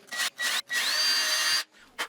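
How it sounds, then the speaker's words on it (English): A power drill bores holes through wood while a woodworker builds a church pulpit, with three close, loud bursts of whirring and grinding, the middle one longest, and a short final burst. "I drilled some holes through from the top."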